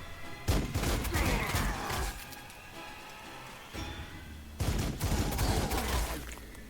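Units fire their weapons in the Warhammer 40,000: Sanctus Reach strategy game, with crackling bursts of gunfire and rattling volleys coming in clusters, a calmer stretch in the middle, then another burst.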